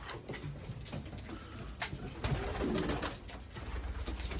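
Domestic pigeons in a new heated cage give soft, low cooing amid a steady background hiss and scattered faint taps and rustles, fairly quiet and continuous.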